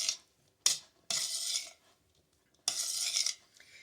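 Rice being mixed for a chicken pot pie: a utensil scrapes around a bowl in four distinct strokes of varying length, close and fairly quiet, with short silences between them.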